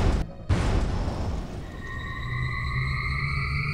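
A cannon volley fires in the Alien Crossfire strategy game, a loud booming blast near the start followed by a sustained rumbling roar with rising tonal whines as the shot carries on.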